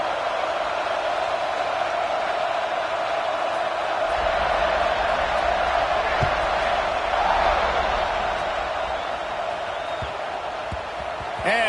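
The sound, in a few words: stadium crowd cheering at Texas vs TAMU football game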